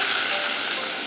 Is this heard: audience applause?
no